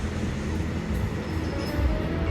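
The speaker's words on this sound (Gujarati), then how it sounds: "ટ્રેન આવી ગઈ છે" An Indian Railways diesel train hauling oil tanker wagons rolls slowly past, a steady low rumble and grinding of wheels at close range, without speech.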